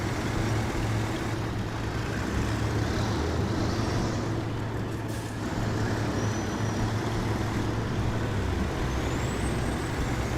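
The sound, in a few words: Kenworth truck engines driving in the SnowRunner video game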